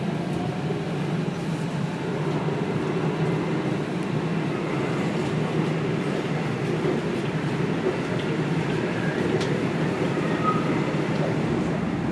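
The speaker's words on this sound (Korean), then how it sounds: "열차가 곧 출발하겠습니다" A steady low rumble of a train pulling away, continuous machinery drone with faint rattling throughout, no voices.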